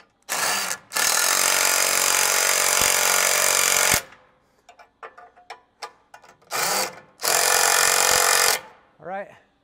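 An impact tool rattles in loud close bursts while tightening the bolts on a Toyota Tundra differential skid plate, with long harsh runs separated by quieter clanks and handling noise.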